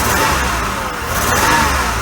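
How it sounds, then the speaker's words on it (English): A loud, close Oldsmobile Ciera engine misfiring under acceleration, its roar rough and uneven with a choppy, missing quality. "That's how much the engine vibrates when you accelerate. It's missing."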